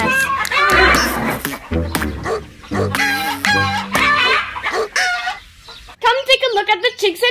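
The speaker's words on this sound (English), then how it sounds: "look at the chicks and ducklings." Chicks and ducklings peep and chirp on a children's toy school bus outing. A voice talks over the calls, and there are clucking-like bursts and high bright chirps toward the end.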